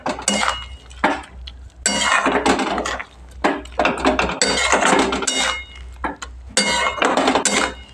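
A utensil scrapes and clanks against a pot while Malabar spinach (pui shak) curry is stirred, irregular bursts of close metallic knocks and scraping separated by brief pauses, with no talking.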